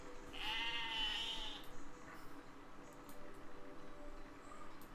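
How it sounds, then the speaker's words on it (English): A single sheep bleats clearly in the video game Besiege, a short nasal call early on, followed by quiet ambient background. "How detailed are these sheep?"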